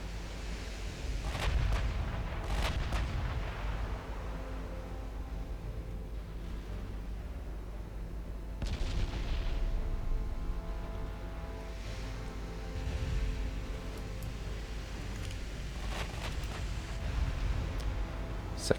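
Secondary guns firing from the Suffolk in a naval battle game, heard as repeated distant booming artillery reports over a constant low rumble of sea and battle ambience.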